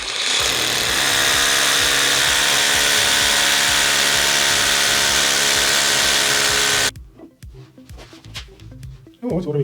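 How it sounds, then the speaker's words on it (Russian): A power drill bores a hole into a wall to mount a plastering rule, a loud continuous whine for about seven seconds, then stops, followed by handling clatter. "Делаю отверстие."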